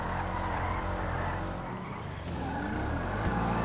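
A car in GTA Online slides sideways with a continuous tire squeal over a loud, steady engine roar, with no break from start to end.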